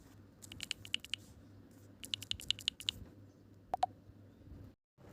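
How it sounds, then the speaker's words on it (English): Keys on a computer keyboard are typed in short bursts of quick, light clicks with pauses between, then two louder isolated taps near the end, close and alone in a quiet room. "simply start by typing question or statement in the chat box below"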